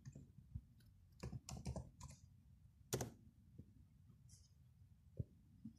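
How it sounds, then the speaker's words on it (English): Keystrokes tap on a computer keyboard as the enable command is entered on a Cisco switch, a few quiet clustered clicks in short bursts with pauses between, close and soft against a faint background. "We are typing enable now."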